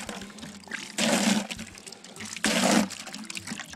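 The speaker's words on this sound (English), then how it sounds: "So you'll see this is like a brown water coming out." Muddy brown water from a hand pump on a hand-dug shallow well gushes in two loud bursts, each about a second long, with a quieter trickle in between.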